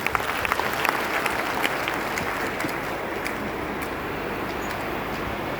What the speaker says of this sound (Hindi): एक बार ताली बजा के सब लोग बधाई